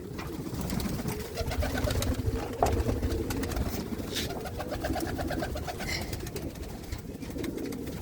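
Male flying pigeons cooing in a loft, repeated soft throaty coos over a constant rustling background, near and moderately loud, with a short clatter partway through.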